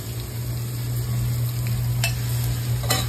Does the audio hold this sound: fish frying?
yes